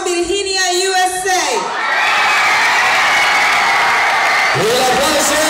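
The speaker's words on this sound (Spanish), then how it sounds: "El aplauso," A festival crowd at the Saya Tamboral 2008 competition cheers and applauds loudly for the third-place winner, a dense continuous roar with whoops that starts after a brief stretch of amplified announcer speech.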